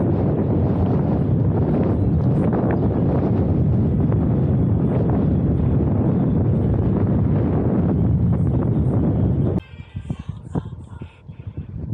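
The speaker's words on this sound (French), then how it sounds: "J'en ai marre de ce vent" Strong wind buffets a microphone on a cycling tour through forests, a loud, rumbling roar that lasts about nine seconds before dropping to fainter, gusty bursts.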